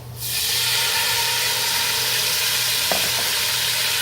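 A hot pan of bolognese deglazed with alcohol hisses into a loud, steady sizzle that swells up quickly and holds without a break. One faint clink is heard, and nobody speaks.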